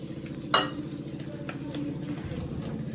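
Bajji batter being mixed in a bowl: a sharp spoon clink against the bowl, then soft, steady stirring and scraping under a low background hum.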